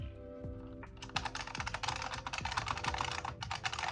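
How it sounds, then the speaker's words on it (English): Dense, rapid keystrokes clatter on a Unicomp Mini M, a compact buckling-spring Model M style keyboard, close up and loud, with ringing spring pings running under the continuous typing. "first time my grubby little fingers type on a new Model M"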